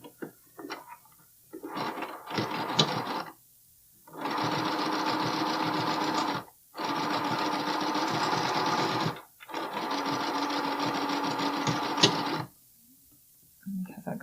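A sewing machine stitches a Cashmerette Loftus bralette in several bursts, a few short ones and then three long runs of rapid even whirring separated by brief pauses, close and clear.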